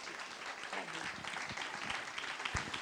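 Audience applause at a university diploma ceremony, a sustained patter of many hands clapping at moderate distance in a hall, with a voice faintly heard under it.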